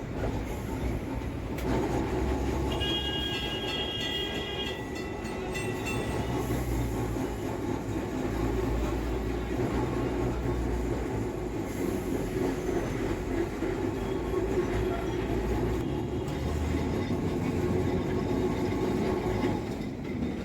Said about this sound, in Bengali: চৌরঙ্গি মোড় ক্রস করে আমাদের ট্রাম যাবে লেলিন সরণি ধরে